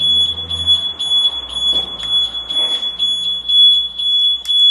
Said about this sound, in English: The alarm's gone off, but I want it to go